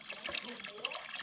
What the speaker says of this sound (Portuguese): Vitinho, liga um pouquinho a água lá. Só um pouquinho.